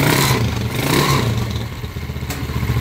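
A 200cc converted motorcycle engine with a 5-speed transmission runs steadily close by, a dense continuous mechanical rumble with light clatter and small swells, no voices over it.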